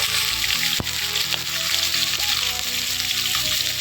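Ginger garlic paste sautéing with beef keema for a dum-style keema, giving a steady, close, continuous sizzle throughout, with one sharp click near the start and no talking.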